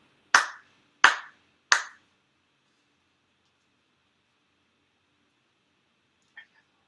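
Ritual hand claps at a Shinto shrine ceremony in Chula Vista: three sharp, close, evenly spaced claps in quick succession, then a pause and one much fainter clap.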